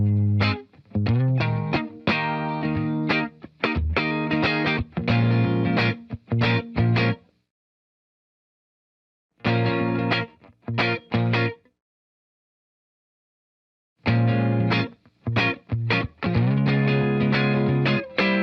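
Electric guitar with a P90 pickup played through a Vox AC15 amp cranked to full volume, thick overdriven chords and riffs in three loud bursts separated by silent gaps.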